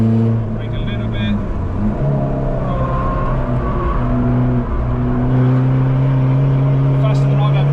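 A Skoda Fabia VRS engine on the Nürburgring holds a loud, steady drone that rises in pitch under hard acceleration, heard from inside the car with voices talking over it.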